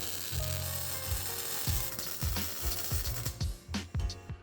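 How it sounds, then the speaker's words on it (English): Tack welds fusing a panhard bar bracket onto a 10.5-inch Tundra rear axle, heard as short crackling, sizzling bursts that stop and start in a quick irregular rhythm, close and moderately loud with no talk. "Let's tack this baby on. While we're at it, we'll get this panhard bar bracket tacked on too."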